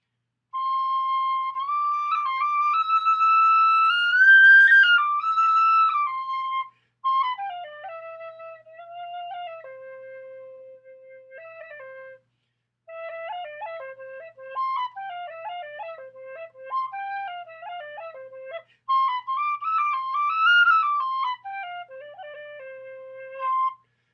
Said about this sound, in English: If you're indoors in a night with nice acoustics, it's a sweet little whistle.